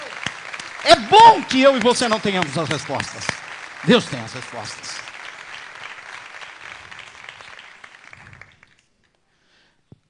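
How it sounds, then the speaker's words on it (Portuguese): A church congregation applauds during a Portuguese-language sermon, a broad wash of clapping running beneath a preacher's voice and then tapering off before silence. "Vamos aplaudir a Deus."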